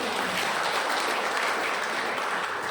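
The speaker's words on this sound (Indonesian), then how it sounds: "Tepuk tangan dulu untuk Pak Camat." Steady crowd applause for a subdistrict head at a community women's event, a dense, even patter of many hands clapping at moderate volume throughout with no break.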